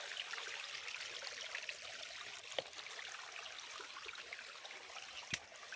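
Water rushing down a natural mountain stream in Tamil Nadu, heard close by as an even, continuous hiss and gurgle with a couple of brief splashes and no talk.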